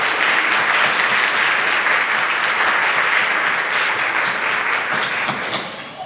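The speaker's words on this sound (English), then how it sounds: "let's give a round of applause to all of our sponsors" An audience at the Miss Salem 2024 pageant gives a full, steady round of applause for the sponsors. The dense clapping holds loud and even for the whole stretch, then thins slightly at the very end.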